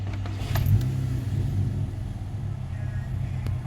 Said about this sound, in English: Let's start the car again.